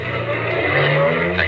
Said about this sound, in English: Maxton's car whipped by